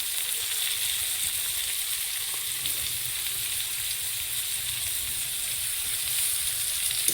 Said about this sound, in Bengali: আবার আর একটা সবজি যাবে, এই দেখো ক্যাপসিকাম লাস্টে দিলাম।